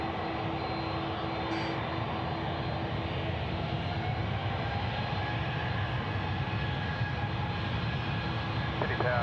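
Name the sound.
Jetstar jet airliner departing at Sydney Airport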